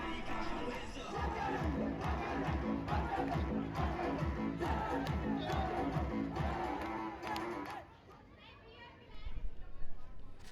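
A dense crowd chatters at Maha Shivratri in Varanasi, many voices overlapping steadily with a rhythmic pulsing beat underneath, then the din drops briefly before rising again near the end.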